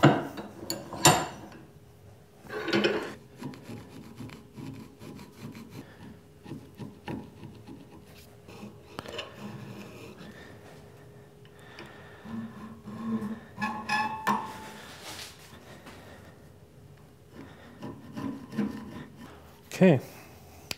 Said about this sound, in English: That's also going to need a little bit of deburring, and we'll do that over at the bench.